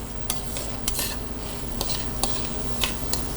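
Fresh cranberries mashed and cooked down in a pan with a steady sizzle and bubbling, with regular scraping knocks of a utensil against the pan, close and continuous.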